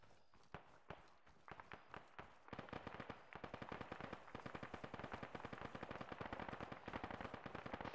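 Automatic gunfire in a multiplayer tactical shooter game, starting as scattered shots and building into dense, continuous rapid bursts that rattle on steadily at moderate distance.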